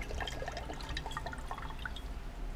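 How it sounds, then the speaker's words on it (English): Liquid is poured slowly onto a simple electrical circuit, giving soft irregular trickles and small drips close by, quiet and with no talk over them. "Let's take it and pour it right on there, slowly, and find out."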